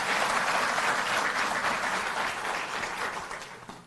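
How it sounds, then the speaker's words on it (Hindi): Loud, sustained audience applause from a large crowd at an official government event with Delhi Jal Board staff, steady for about four seconds and tapering slightly at the end. "एक बार जोरदार तालियों से आप करें"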